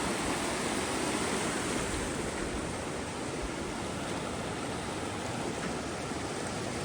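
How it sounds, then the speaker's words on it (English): Water rushes steadily at a creek crossing on a snowy Great Smoky Mountains backpacking trail, a dense, loud broadband wash that stays constant and close throughout with no voices. "One more creek crossing."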